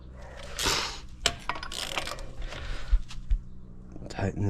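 Wheel lug nuts on a 2008 GMC Sierra being tightened in a star pattern, soft ratchet clicks, creaks and metallic clunks in short bursts, with someone speaking near the end.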